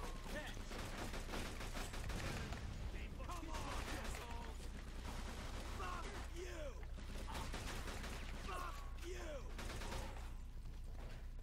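Rapid gunfire rattles on through a firefight in Mafia 2, a continuous low-level volley of shots with voices talking over it.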